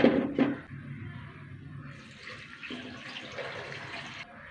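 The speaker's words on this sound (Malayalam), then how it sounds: "വെള്ളം ഒഴിച്ച് കൊടുത്ത് കുറച്ച് ഉപ്പിട്ട് കൊടുക്കട്ടെ" Water poured into a pot of tapioca for boiling on a gas stove, a steady running splash after a brief clatter at the start, moderately loud and continuous.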